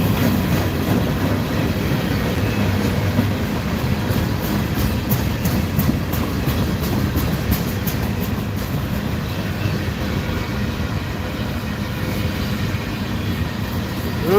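A Union Pacific freight train, with a brand-new locomotive, rolls past up close at night, a loud continuous rumble with rhythmic clacking of wheels over rail joints throughout, no voices.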